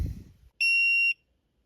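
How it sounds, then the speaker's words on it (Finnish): A car diagnostic tester hooked up to a 2012 Volkswagen Sharan gives a single loud, steady electronic beep lasting about half a second after a short thump of handling. "Nyt se ilmeisesti sai yhteyden autoon, kun se piippasi."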